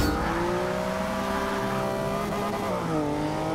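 A 2015 Porsche Cayman GTS in Forza 6 accelerates hard, its loud, steady engine tone climbing through the gears with a brief dip at a shift, heard up close with no talk.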